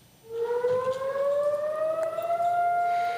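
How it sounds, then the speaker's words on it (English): Civil defense sirens across Israel on Holocaust Remembrance Day blare steadily for two minutes after a brief quiet start, the wailing tone rising slowly and holding loud and continuous throughout. "Sirens blared across the country for 2 minutes."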